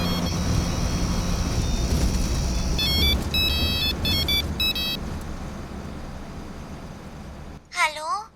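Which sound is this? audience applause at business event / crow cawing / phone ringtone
phone ringtone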